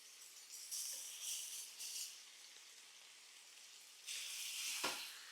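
Seasoned chicken strips sauté in a hot pan with a faint, airy sizzle that rises in short bursts, eases off, then swells again near the end, with no voices.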